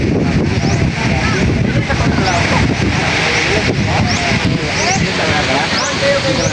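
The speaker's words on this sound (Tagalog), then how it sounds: "Medyo mahangin pa rin po dito sa tabi." Steady wind roars and buffets by the seashore, a loud continuous rush with faint higher cries and engine-like rumble underneath.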